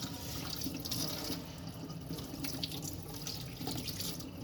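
Tap water runs steadily over a stove-cooked onion being washed in a sink, a constant close splashing stream with faint clatters.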